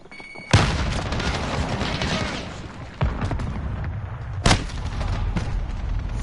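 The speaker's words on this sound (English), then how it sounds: "Throwing grenade!" A grenade explosion and gunfire in a modern first-person shooter game: a sharp blast opens into rumbling, crackling fire, with further heavy booms a few seconds later, loud and close.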